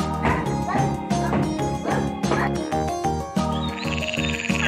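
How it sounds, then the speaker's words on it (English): A frog croaks in a series of loud, close, rhythmic pulses with a raspy, harmonic tone. "Frog."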